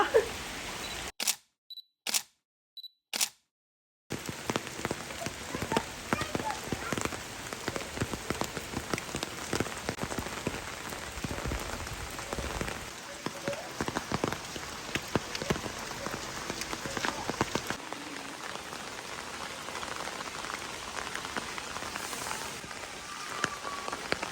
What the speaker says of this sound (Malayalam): ഇത്ര നേരം മഴയത്തുള്ള കളികളും അഭ്യാസങ്ങളൊക്കെ ആയിരുന്നു ഗ്രേസിൻ്റെ സ്റ്റീവിൻ്റെയും കൂടെ.